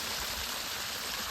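Water pours steadily from a pipe propped on two bamboo stands into a fish pond, a constant close splashing rush with no pauses and no speech over it.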